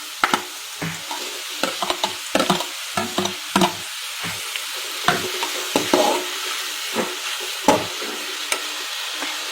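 Onions sautéing in a pan, a low sizzle broken by a series of sharp spoon scrapes and knocks at an uneven rhythm, close up, with no talking.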